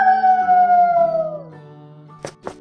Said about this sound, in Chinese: 小狼，小狼，这是你的叫声吗？